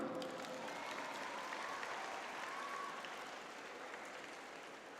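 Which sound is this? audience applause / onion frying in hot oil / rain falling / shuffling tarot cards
audience applause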